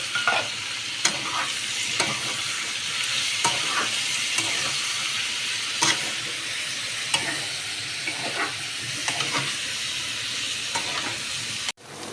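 A tomato, ginger and cumin paste fries in a pan under a steady sizzle, stirred with repeated scraping strokes at an uneven rhythm, close and fairly loud, without talk.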